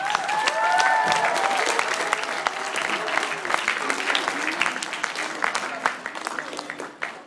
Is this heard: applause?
yes